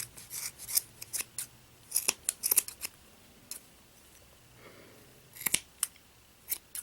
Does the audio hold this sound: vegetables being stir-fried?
no